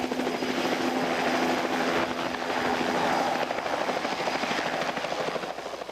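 A firefighting helicopter flies over a wildfire in Canadian wilderness, its loud, steady rotor and engine roar filling the scene with continuous thumping, close and sustained throughout.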